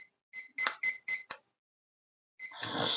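An electronic timer set for a yoga practice session sounds a series of four or five sharp, evenly spaced beeps, then after a pause another beep merges into a louder burst of noise.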